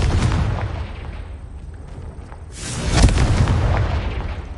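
A deep booming blast from the Confringo spell in Hogwarts Legacy, a loud low rumble that swells and peaks midway before fading, with no voice over it.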